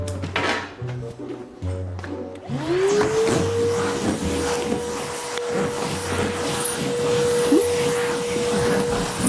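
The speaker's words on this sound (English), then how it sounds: "get back to vacuuming" A vacuum cleaner being used to clean a van: after a few clunks and knocks the motor spins up with a rising whine and then runs steadily at close range, with faint handling noises and no clear speech.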